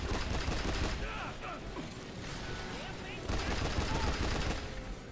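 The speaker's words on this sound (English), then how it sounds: "Hit the area hard. Bringing in support fire." Sustained support-fire gunfire from The Bureau: XCOM Declassified, a dense mechanical rattle of shots with clanking weapon mechanisms, steady and loud throughout with brief bursts of heavier intensity.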